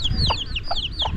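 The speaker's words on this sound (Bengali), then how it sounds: "আমার সামনে দেখো বড় মুরগি, তার বাচ্চা মুরগিদেরকে আর কি খাওয়া শেখাচ্ছে" A hen clucks repeatedly near a rural roadside in a Sundarbans village, guiding her chicks to feed; short rhythmic clucks come every few tenths of a second over a low outdoor rumble.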